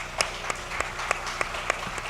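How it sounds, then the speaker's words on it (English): Applause from a conference audience at an AI and Web3 panel, a soft continuous patter with a few sharper individual claps standing out at regular intervals. "So could I get a round of applause for them and all of their hard work?"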